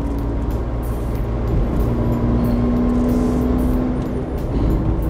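A 2023 Suzuki S-Presso Special Edition with a small 1-liter engine climbs uphill, heard from inside as a steady, moderately loud engine hum with road noise and a sustained tone, without talk.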